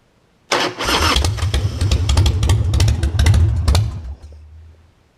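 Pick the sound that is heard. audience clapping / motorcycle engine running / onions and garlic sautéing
motorcycle engine running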